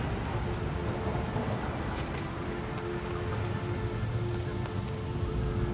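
Steady heavy rain hisses continuously with a low rumble of thunder in the Shadow of the Colossus video game, loud and dense throughout with no speech.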